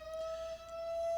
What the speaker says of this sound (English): That's the 12 o'clock siren from my hometown.